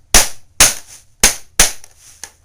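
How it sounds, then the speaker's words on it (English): Four sharp, loud metal impacts in an uneven rhythm, then a fainter fifth tap, as a steel rod held in a jig is pounded to cut a notch. "Now we can start pounding a little"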